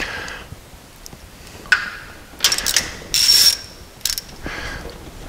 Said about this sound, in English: when putting the sparks in, I strongly suggest you just use a stub wrench